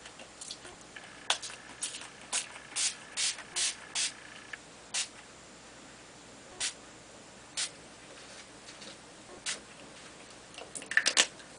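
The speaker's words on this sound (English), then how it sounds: "I'm going to spray it with Tattered Angel's chalkboard ink, and this is in the color Apricot Nectar" Tattered Angel chalkboard ink in the color Apricot Nectar spritzed from a small pump bottle onto an embossed card piece, a series of short quiet hissing puffs in quick rhythm, then a few spaced sprays, no talking.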